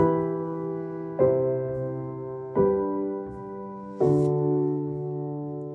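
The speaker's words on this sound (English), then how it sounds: "So I think of that as the minor money chord progression." Four sustained chords played one after another at a slow, even pace, each struck and left ringing with a warm, dark, minor quality.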